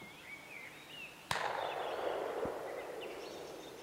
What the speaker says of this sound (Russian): Судя по дальнему выстрелу